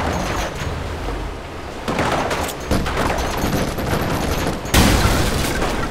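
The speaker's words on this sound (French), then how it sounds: "Ces petites bombes sont bien pratiques, du moment qu'on se tient loin de l'explosion." Small bombs go off in Lara Croft and the Temple of Osiris, several loud sharp blasts at irregular intervals, each followed by crackling debris and rumble, with no voices.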